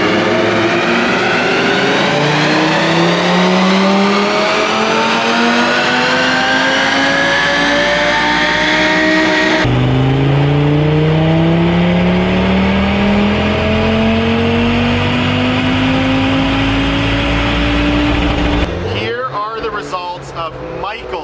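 An Audi RS3 with a TTE 700 turbo on a Unitronic Stage 3 93-octane tune revs hard on an all-wheel-drive dyno. Two long, loud engine pulls climb steadily in pitch, then cut off sharply near the end.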